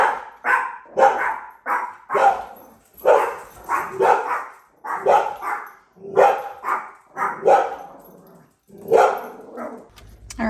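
Dogs at home bark repeatedly and close by, a rapid series of loud, insistent barks with short pauses between bursts, calling to be let outside.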